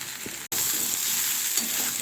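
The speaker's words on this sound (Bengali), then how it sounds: "আমি কাঁচা লঙ্কা কেটে নিয়েছি এবার এই মশলা কষানোর উপর দিয়ে দেবো" Chopped green chillies hitting frying spice masala in a Bengali home kitchen, a loud, steady close sizzle with a brief cut partway through and light stirring scrapes underneath.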